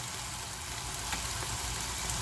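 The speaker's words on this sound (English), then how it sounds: "I'll shift this to another burner where my potatoes are frying" Potatoes frying in oil in a pot on a stove burner while cooking dum aloo, a soft, steady sizzle and hiss with no voices, faint and continuous throughout.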